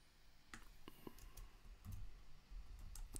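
Scattered key clicks from a computer keyboard while a course title is typed into a WordPress text module, irregular taps over quiet room noise with no voices.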